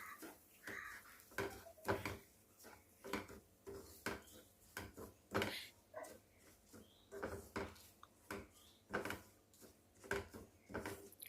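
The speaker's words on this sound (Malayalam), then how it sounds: "അതിലേക്ക് നമ്മൾ എടുത്തു വെച്ചിരിക്കുന്ന റവ ചേർക്കുക. എന്നിട്ട് നന്നായിട്ട് വീണ്ടും ഇളക്കി കൊടുക്കുക" Semolina (rava) stirred in a pan with coconut oil for an egg and rava breakfast, heard as faint, repeated scraping and tapping strokes of a spoon against the pan in an irregular rhythm.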